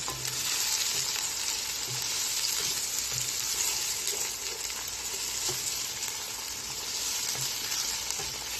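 Ginger-garlic paste mixed with yogurt for chicken biryani fries in a pan, giving a loud, even, continuous hiss-like sizzle close up with faint stirring taps and no voices.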